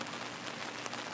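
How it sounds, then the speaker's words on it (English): Steady rain pours down onto a garden pond with a floating liner, a dense, even hiss of drops that carries on without a break, faint and a little distant, with no voices over it. "This is the end of the rain"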